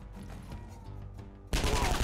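Gunfire in the tactical video game Skyshine's Bedlam: a steady low mechanical bed gives way to a sudden loud, dense burst of shots that fills the last half-second.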